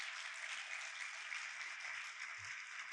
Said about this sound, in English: let's give a giant round of applause to Curtis J.